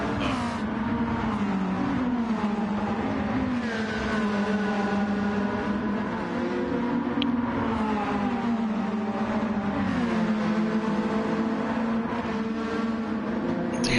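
A touring car engine in a racing video game, driving a Honda Civic on a Tokyo track, drones steadily with rising and falling revs through gear changes, loud and continuous for the whole stretch.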